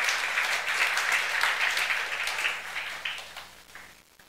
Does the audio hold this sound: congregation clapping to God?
yes